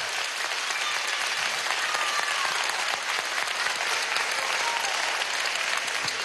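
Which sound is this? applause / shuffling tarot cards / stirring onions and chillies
applause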